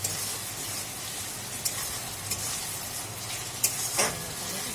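Spiced mutton kosha fries in oil with a steady, close sizzle, broken by a few clinks and scrapes as a utensil stirs the pan. No voices are heard.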